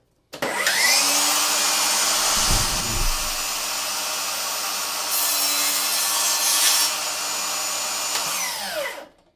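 A saw blade rips straight through a wooden board in one continuous loud, close cut, the motor whine holding steady for about eight seconds before spinning down.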